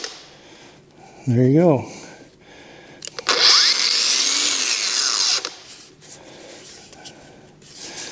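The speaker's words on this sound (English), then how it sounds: "So anyway, it has a soft start and a brake." A Fein CCG 18-125 BL cordless angle grinder soft-starts into a loud whine, runs for about two seconds, then brakes to a quick stop. A brief tool buzz comes just before it, and someone speaks briefly.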